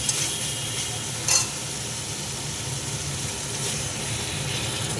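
Eggplant and fish curry frying in a pan, with a steady loud sizzle as water goes in, a brief sharper hiss burst near the start, then continuous bubbling hiss throughout.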